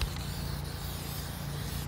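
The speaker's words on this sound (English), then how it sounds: "This is spraying differently, I have to say." An SEM Bumper Coater aerosol can in medium gray sprays in one continuous, loud hiss lasting about two seconds, close up and alone.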